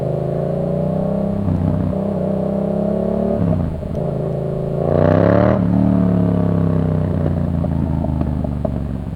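A motorcycle at a touring rally revs and pulls away to race another rider, its loud, close engine droning and rising in pitch through gear changes with a sharp surge midway.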